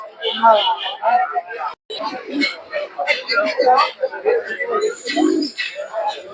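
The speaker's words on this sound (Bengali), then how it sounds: "কিছু কবুতর দেখতে পাচ্ছেন" Pigeons coo in soft, repeated bursts amid crowd chatter and nearby voices talking at a livestock and bird market in Madhabdi, Narsingdi.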